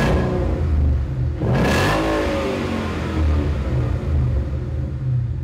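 A 2015-2017 Ford Mustang GT V8 with a Flowtech stainless axle-back exhaust rumbles deeply, then a quick rev rises and falls before it settles back to a steady, loud, close idle.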